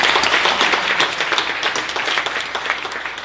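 Audience applause at a West Covina State of the City gathering, a dense, steady wash of many hands clapping that fills the room without a break and holds at an even level to the end.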